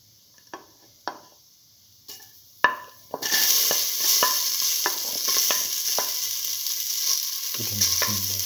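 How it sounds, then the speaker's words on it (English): Onion pieces dropped into a hot pan, a few sharp clatters and taps, then a steady close sizzle of frying with occasional stirring scrapes, no talk. "Put in the onion pieces."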